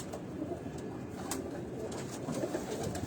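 Pigeons coo softly in a low, continuous murmur with faint rustling, heard close with no talk.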